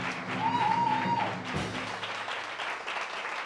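Audience applause for the trio Eterna Fugacita during an opera-themed stage show at Clasijazz in Almería: a steady wash of clapping from a live crowd, moderately loud and sustained throughout, with a brief tonal whistle-like note early on.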